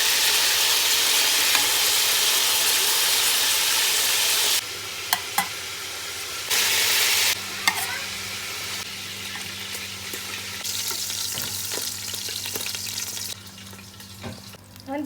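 Pieces of meat for pot kebab sizzle loudly in a pan as they are stirred and turned, a constant close frying hiss broken by scraping and clatter, easing off toward the end.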